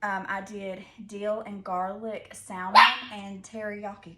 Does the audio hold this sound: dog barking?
yes